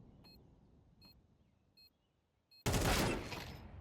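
Gunfire in a competitive shooter video game during a tournament semi-final: a few faint electronic beeps, then a sudden loud burst of rapid shots that slowly tails off.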